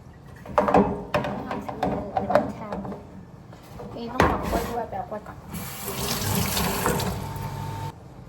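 Water runs from a kitchen tap into a sink while food is washed, splashing steadily for the last few seconds after earlier clatter and brief voices nearby.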